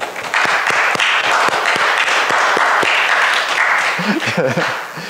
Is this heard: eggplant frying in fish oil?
no